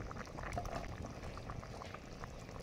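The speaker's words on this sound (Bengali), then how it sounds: "দেখুন ঝোলটা ফুটতে শুরু করেছে।" Fish curry broth at a steady boil in a pot, a continuous soft bubbling and gurgling, close and fairly quiet with no voices.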